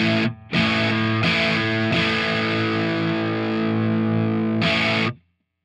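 Distorted electric guitar played through the Brit 800 amp model on a Fender Tone Master Pro, with the low cut filter at 59 Hz: three quick chord stabs, then a long sustained chord and a final stab, loud and alone.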